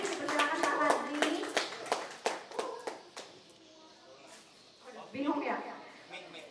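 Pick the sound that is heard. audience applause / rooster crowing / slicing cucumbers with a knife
audience applause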